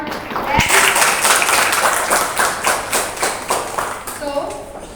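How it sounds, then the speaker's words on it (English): A classroom of students applauds after seminar presentations, steady rhythmic clapping from a group at close range, with a sharp tap near the start and voices murmuring underneath. "a big round of applause for them"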